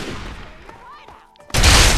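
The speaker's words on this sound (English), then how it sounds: "I am being shot at" Gunfire in a Fallout video game ends the clip with a loud, dense burst of shots that rises sharply after a quieter stretch of game ambience and faint whistling tones.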